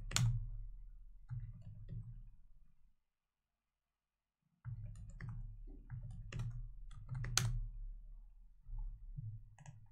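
Typing on a computer keyboard, entering commands into a Python debugger, gives faint, sparse key clicks and taps in two short stretches split by a silent gap, with a low background hum and no speech.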